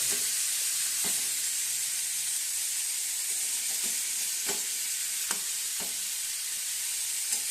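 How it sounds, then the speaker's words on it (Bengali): Radish and potato pieces fry with onion in a hot pan for a radish and poppy-seed dish, giving a loud, steady sizzle with scattered clicks from stirring. "ভালো করে কেটে ধুয়ে রাখা মূলো আলু টুকরোগুলো মিশিয়ে দিয়ে ভালো করে নাড়াচাড়া করে আর একবার"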